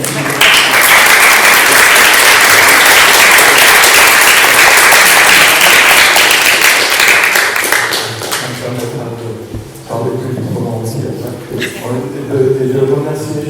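Dense audience applause at a public dialogue event, loud and continuous for about eight seconds before fading into scattered claps as a voice begins talking.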